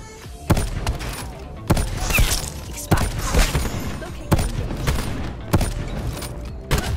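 Gunfire in a sniper shooter video game: several sharp, booming shots spaced about a second apart, each with a ringing tail, over a low background of game effects.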